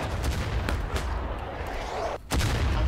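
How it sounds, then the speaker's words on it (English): Massed rifle volley in the Civil War shooter War of Rights, a dense crackling roar of overlapping musket shots lasting nearly three seconds, briefly dropping off before another sharp burst of fire at the end. "Take aim. Aim. Fire!"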